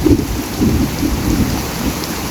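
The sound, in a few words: heavy rain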